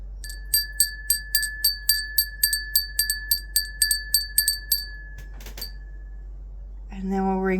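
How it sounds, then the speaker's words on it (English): A small bell, bell number 1, is struck about sixteen times in a quick, even rhythm, each ding ringing on and fading before a brief voice enters near the end. "Okay, so we are going to ring bell number 1 first."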